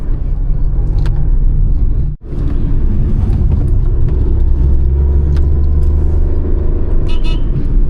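A Maruti Alto K10 car pulls uphill in third gear on narrow Shimla roads, its engine giving a steady loud low rumble that runs throughout, broken by one brief dip in the sound.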